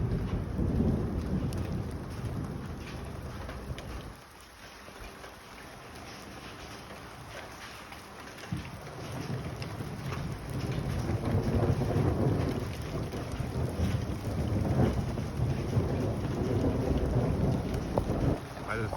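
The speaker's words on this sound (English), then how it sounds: "The rain's coming down now." Heavy rain pours steadily during a violent thunderstorm with hail expected, with low rumbling thunder rolling through; loud, continuous and close, with no talking.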